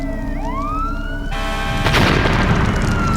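Emergency vehicle sirens wail from police cars, fire trucks and an ambulance blocking a church street in a TV series, with rising and falling tones over a heavy rumbling background that builds to a louder burst.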